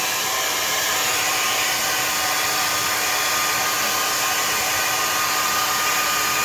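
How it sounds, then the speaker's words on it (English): A hair dryer blows steadily on hair, a loud continuous whooshing drone with no breaks, heard alone at close range. "the hair is drying"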